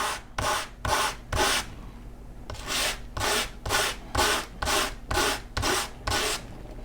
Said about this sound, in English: here I've got some 220 sandpaper, and I'm just going to sand each of the 4 sides.